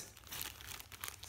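A plastic bag holding a Celestron zoom eyepiece crinkles and rustles up close during unboxing, a continuous papery crackle that comes and goes in small bursts.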